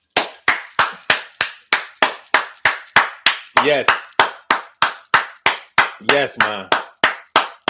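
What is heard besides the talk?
hand clapping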